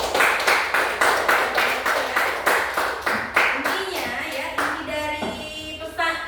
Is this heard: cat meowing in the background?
no